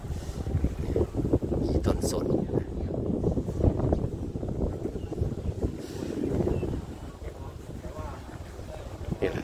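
Wind on a beach, a continuous blustery rumble buffeting the microphone in gusts, with someone speaking briefly over it.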